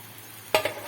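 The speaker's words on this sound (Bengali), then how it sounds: "আলু ভেন্ডিটা বেশ ভালো করেই ভেজে নিতে হবে" Potatoes and okra fry in a pan with a soft, continuous sizzle, broken near the end by two quick stirring scrapes.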